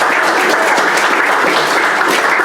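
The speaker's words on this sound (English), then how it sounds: "Round of applause for Bev." An audience at a community history talk gives a round of applause, dense, loud and steady clapping throughout.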